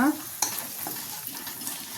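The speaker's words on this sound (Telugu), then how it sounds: "గిన్నెలో తీసుకొని టమాటాలు ఫ్రై చేసుకున్నా" Chopped tomatoes frying in oil in a pan for a fenugreek-leaf chutney, a close, continuous sizzle with a sharp utensil clink and stirring scrapes near the start, and no voices.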